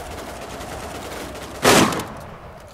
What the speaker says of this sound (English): If I continue shooting in a general direction.